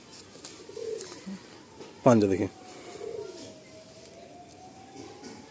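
Madrasi pigeons up for sale in Kolkata coo softly and steadily in low, rounded bursts, with a voice cutting in briefly partway through.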